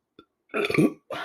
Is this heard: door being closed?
no